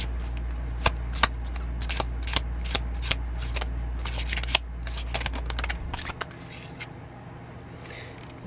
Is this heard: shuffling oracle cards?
yes